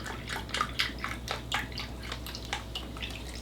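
Beef broth pours into a Ninja Foodi pot as a steady splashing, gurgling stream close by, with a few louder sloshes early on.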